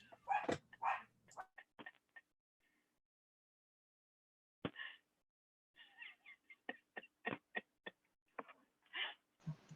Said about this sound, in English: Bambi must be barking at her.